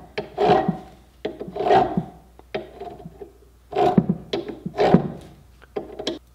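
A thread chaser works over damaged threads on metal, making close scraping, rasping strokes in uneven bursts with short pauses between passes.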